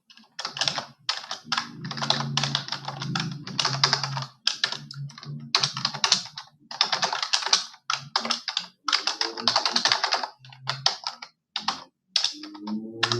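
Rust code being typed on a computer keyboard, quick bursts of close key clicks in irregular runs separated by short pauses, with no voice over it.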